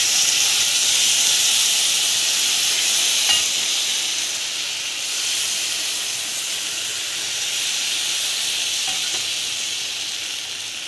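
Rice flour ghavan batter hisses on an oiled, water-sprinkled dosa tawa in a continuous, fairly loud sizzle that fades slightly over time, with no talking.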